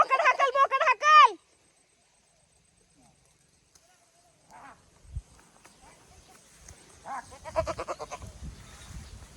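Goats bleating in a farm field, a burst of loud nearby bleats at the start, then quiet broken by scattered rustling and people talking.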